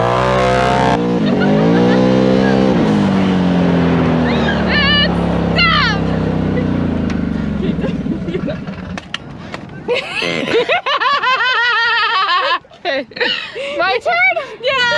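Loud, rushing wind buffets riders in a Can-Am Maverick Turbo side-by-side, with a rumbling roar at first, then excited shouting and yelling voices over the noise.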